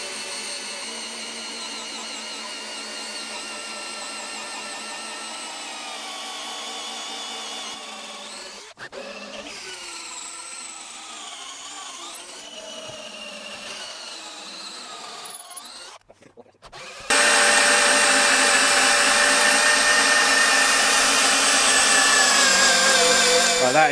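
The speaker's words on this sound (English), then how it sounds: "that is all the holes drilled in the posts and beams" A power drill bores peg holes through oak frame posts and beams, a steady whine running throughout with a brief pause and shift in pitch, then a louder, harsher burst toward the end, no talking.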